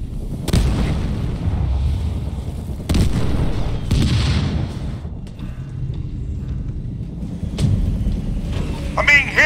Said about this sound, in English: I'm under fire from enemy vehicles!